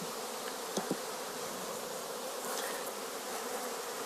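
Honey bee workers buzz steadily around a brood frame at an open hive, a dense, continuous hum close by, with a couple of brief knocks near the start.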